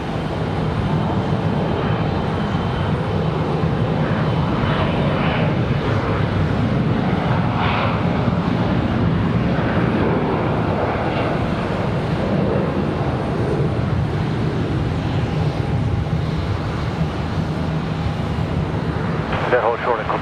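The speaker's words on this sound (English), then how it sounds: "Our departures off to Hilton Head Island in E175LR" An Embraer E175LR jet departs from a busy airport, its engines a steady, fairly distant roar that holds for about twenty seconds, with faint background sounds mixed in.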